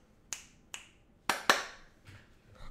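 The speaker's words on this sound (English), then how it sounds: "That clap kind of worked." Four sharp, isolated hand claps or snaps ring out in an uneven rhythm, each a crisp close transient with a short decay, followed by a couple of fainter knocks.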